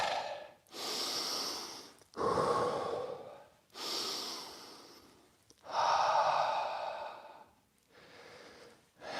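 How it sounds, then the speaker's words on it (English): Deep, slow breaths after a Shotokan karate workout, with about five long inhales and exhales in a steady rhythm, close and fairly quiet. "Couple of deep breaths."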